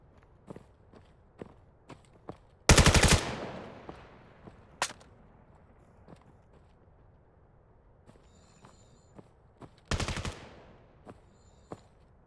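Gunfire in a competitive shooter video game match: two short, loud automatic bursts stand out against quiet, scattered footsteps and isolated single shots.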